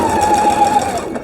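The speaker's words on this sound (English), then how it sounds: "we're just going to sew straight seams." A sewing machine runs steadily while stitching straight seams through quilting fabric, its motor a continuous close, even whir with no pauses and no talk.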